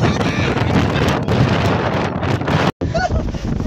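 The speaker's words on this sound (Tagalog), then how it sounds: "sobrang lakas ng hangin" Strong wind with rain in Infanta, Quezon buffets the microphone in a loud, steady roar, with a brief dropout near the end before the gusting resumes.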